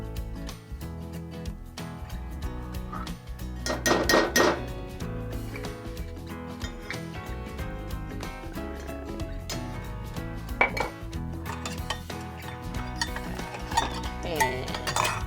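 Small saucepan and utensils clinking on a stovetop while a quarter cup of butter melts, with irregular metallic taps and scrapes over steady kitchen background noise.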